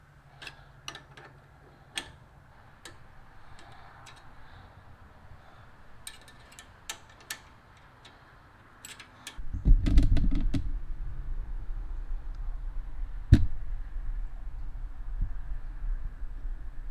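Tools click sharply and intermittently while bolts are tightened on a Jeep Wrangler Metal Cloak steering upgrade, with scattered close ticks, then a louder low rumbling stretch and further clicks near the end.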